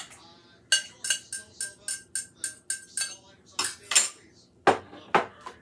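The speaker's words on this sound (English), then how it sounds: "The more you mix it, the more air gets into it," A utensil beats eggs in a bowl for a bacon, egg and cheese casserole, rapid rhythmic clinking strokes against the dish in quick bursts, close and clear, with a short pause midway.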